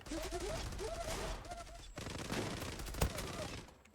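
Shotgun fire from the video game Zula comes in a dense, busy burst of blasts over a background of game noise, with one sharp loud shot standing out near the end.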